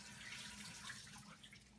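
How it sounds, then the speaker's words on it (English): Cold tap water runs steadily onto a heated ball during a gas-pressure demonstration, a quiet, continuous hiss of flowing water with no talk. "Let me give some cold water to help that."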